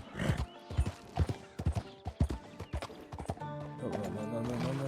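Horse hooves clip-clop in a steady rhythm through the Red Dead Redemption 2 video game world, close and fairly loud, with a brief whinny-like tone near the end over a low ambient drone.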